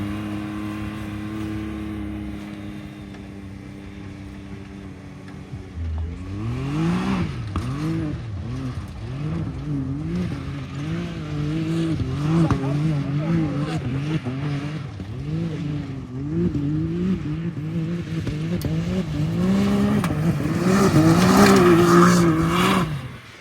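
A G56 6-speed Cummins diesel truck revs hard while doing donuts, its engine idling steadily before surging into loud, wavering revs that climb and fall repeatedly, peaking near the end, close by.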